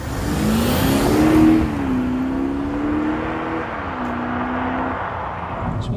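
An Audi SQ5 TDI accelerates with a loud, close engine drone that climbs in pitch, dips at a gear change, then rises again before easing off.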